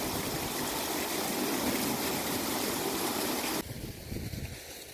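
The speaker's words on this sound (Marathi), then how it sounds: "शेवटी मोटर झाली चालू." Water gushing out from a well pump motor, a loud, steady rushing flow that drops to a lighter, more uneven splashing near the end.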